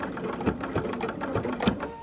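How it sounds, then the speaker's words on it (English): A sewing machine stitching raw-edge appliqué, with a short run of rapid, even mechanical stitch pulses heard up close. "So I'll make another stitch and then hold the back stitch option."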